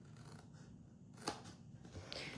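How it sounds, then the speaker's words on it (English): Scissors cut through folded paper in a few close snips, with one sharp crisp cut standing out, against a quiet room with no talking. "So now I'm going to cut here and here."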